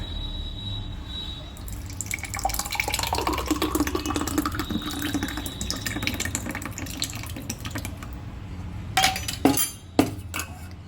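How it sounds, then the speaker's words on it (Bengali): Beet and watermelon juice poured with a splashy liquid stream and glassy clinks, steady for several seconds before ending in a few sharp clinks near the close. "এবার আমি এটা ঢেলে ফেলছি"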